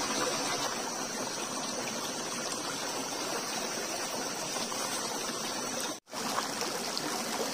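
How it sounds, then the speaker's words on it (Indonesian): An outdoor stream trickles and babbles steadily while water is fetched for washing onions, a constant soft wash of flowing water with one brief dropout partway through. "Ambil air untuk cuci bawang guys."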